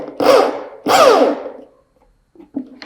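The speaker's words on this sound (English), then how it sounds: "So we take a screw and we do a screw driving. So again, at the lower RPM." Bosch GSB 10 RE corded impact drill driving a screw at low speed, two short whirring bursts with rising-falling pitch, then a couple of faint clicks, close and loud.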